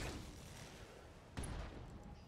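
Weapons fire in the BattleTech mech game, a dull, muffled rumble with one sharper blast about midway, heard alone at moderate loudness.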